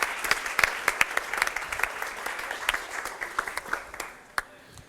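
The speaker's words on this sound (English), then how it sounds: "Now give a warm round of applause for our guests here today." Applause from a live audience greeting guests at a sustainable finance discussion, dense, steady clapping with sharp individual claps standing out, holding for about five seconds before tapering off.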